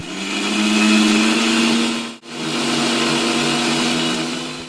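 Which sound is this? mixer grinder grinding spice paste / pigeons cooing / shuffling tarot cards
mixer grinder grinding spice paste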